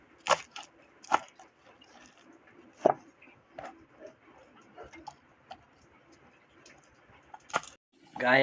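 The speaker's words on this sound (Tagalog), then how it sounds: "Gayat-gayat tayo sibuyas at bawang para sa ating tofu." Knife chopping onion and garlic on a cutting board for a pechay and tofu dish, sharp irregular taps spaced apart, fairly close, with faint background sounds between strikes.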